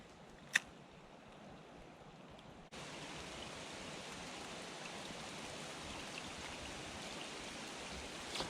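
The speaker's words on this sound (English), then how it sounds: "Okay, it's raining." Rain falls outdoors in a steady, hissing wash that starts abruptly after a quiet moment with one sharp tap, then keeps up evenly and fairly soft to the end.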